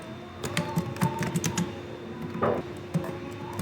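Computer keyboard keys click in a quick series of light taps as Cisco switch VLAN commands are entered, close and fairly quiet, with a short pause and one more burst near the end and no talk.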